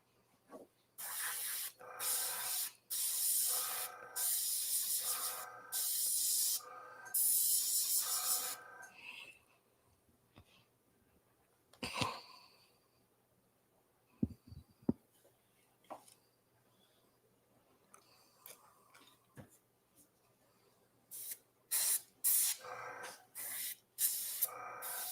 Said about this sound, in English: I'm going to send some reducer down in here and see if we can get that to shoot through